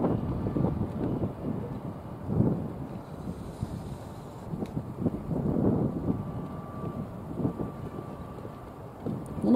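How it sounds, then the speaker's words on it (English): Wind gusts at night at Belfast harbour buffet the microphone in uneven, rumbling bursts, rising and falling without any talk. "And the wind is up tonight."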